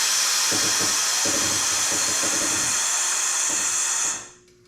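Loud whining hiss of a power tool working off the sway bar links on a Jeep Cherokee XJ, running steadily with several rapid bursts of rattling impacts before cutting off near the end.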